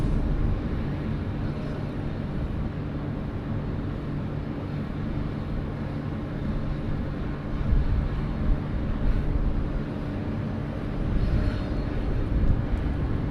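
Qantas airliner landing on runway 16 right at Sydney Airport, a steady, moderately distant jet rumble with low engine hum that swells briefly in places, no talk.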